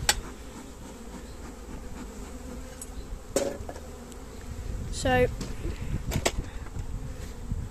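Bees buzz in the open air around a hive during a transfer of a colony, a faint steady drone with a louder insect passing close by midway, while a person speaks briefly.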